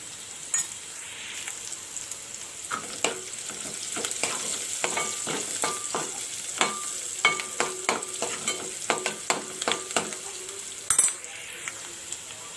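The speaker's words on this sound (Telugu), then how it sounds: "ఉల్లిపాయలు త్వరగా ఫ్రై అవ్వాలంటే కొంచెం సాల్ట్ వేసుకోవాలి." Onions fry with salt in a pan under a soft sizzle, while a spoon stirs and scrapes against the metal in a run of sharp, irregular clinks and knocks.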